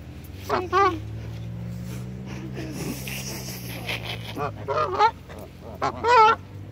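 Geese honk loudly and nearby in several raspy bursts, with a low hum of background noise between the calls.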